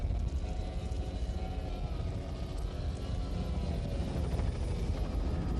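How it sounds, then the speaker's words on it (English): Helicopter flying at around 90 mph ground speed over a 1994 powerboat race at Dunoon, a steady loud rotor and engine drone filling the whole stretch with no talk. "The ground speed on the helicopter here around 90 miles per hour."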